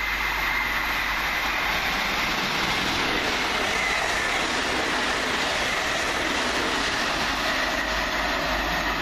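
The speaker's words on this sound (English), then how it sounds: "Next train down, 1 Papa 67 from Peterborough to London King's Cross." A train bound from Peterborough to London King's Cross runs through Welham Green station, a sustained, loud rumble and rush of wheels on rail heard up close for the whole stretch, with no voices.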